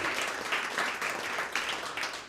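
Audience applause fills a comedy club, a steady burst of clapping that holds at even strength for a couple of seconds with a few sharper individual claps standing out.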